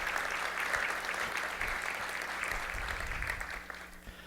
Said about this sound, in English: Can we have a nice little round of applause for them?